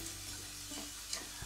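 Chopped onion hits heated olive and sunflower oil in a pan, giving a close, steady sizzle with a faint crackle and a brief stir near the end.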